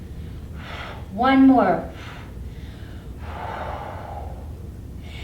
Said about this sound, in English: we're going to take 3 warrior breaths